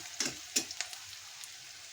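Onions frying in hot oil give a quiet, steady sizzle with a few sharp crackles and stirring scrapes near the start, close by with no talk.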